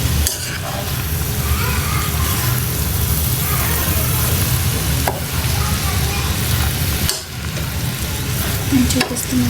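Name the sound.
stirring palak, tomato and potato curry in a pan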